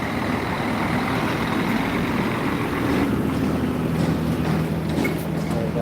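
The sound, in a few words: truck driving out of a slaughterhouse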